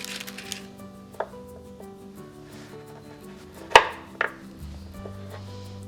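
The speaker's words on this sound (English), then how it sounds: "I'll do both, that one and that one, and chop it open for you so you can see" A knife chops open chocolate nut clusters in rocky road style, with a few sharp cuts standing out loud and close against quieter kitchen handling, spaced irregularly over several seconds.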